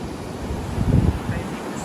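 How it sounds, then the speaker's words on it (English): Wind gusting to 30–40 mph rushes across a beach at sunset as high surf rolls in, a steady blustery roar with a swell of breaking waves in the middle. "The waves are still pretty high. We had it was pretty windy, getting up to like 30, 40 miles an hour gusts"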